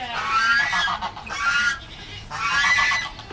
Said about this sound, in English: noisy ducks right here